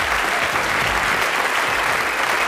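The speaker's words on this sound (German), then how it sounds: "Schönen Applaus." Steady, dense applause from a studio audience at a satirical late-night show fills a short stretch at an even, loud level, with no voices over it.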